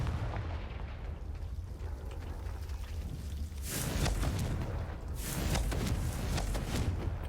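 Confringo spell blasts in the Hogwarts Legacy video game, fired against creepy spiders: a dense rumble of explosive bursts, swelling louder in two surges near the end.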